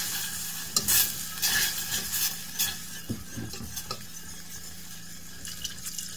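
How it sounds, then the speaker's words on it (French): A spoon stirs milk into a butter and flour roux in a pan, giving soft scraping and light bubbling sizzle with a few sharper utensil knocks, close and fairly quiet, no talking. "Et on remue."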